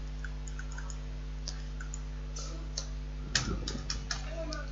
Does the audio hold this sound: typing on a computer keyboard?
yes